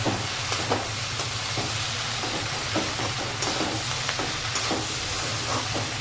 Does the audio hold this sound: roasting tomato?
yes